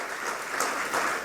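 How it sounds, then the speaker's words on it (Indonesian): Short burst of congregational clapping during a church worship service, a steady wash of hands at moderate distance with no talking. "Beri tepuk tangan dulu buat Tuhan Yesus."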